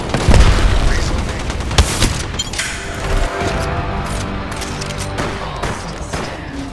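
A grenade detonates in Apex Legends with a loud close boom, followed by crashing debris and a burst of rapid gunfire, then a lingering rumbling tail.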